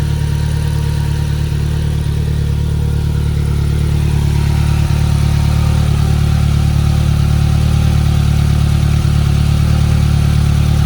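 A Polaris Slingshot R 2.0 ProStar 1,997 cc engine runs at a steady, loud idle with a low, even drone and no change in pitch throughout, and no voices are heard.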